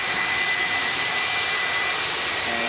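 A China Southern Airlines jet airliner roars past overhead, a loud steady broadband engine rush with a thin whine, alone with no voices.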